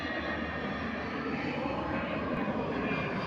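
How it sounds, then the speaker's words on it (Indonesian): A Citilink airliner departs SMB II airport, its engine roar a steady, broad rumble heard from outside at some distance. "Pesawat meluncur di hari Jumat."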